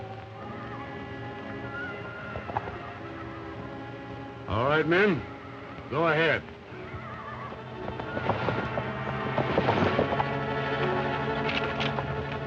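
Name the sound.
horse neighing and hooves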